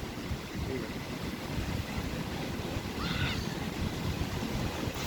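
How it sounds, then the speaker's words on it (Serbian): Sea waves wash onto a beach on a winter day, a steady broadband surf rush with wind buffeting the microphone throughout. "Ja ću malo da snimam talas."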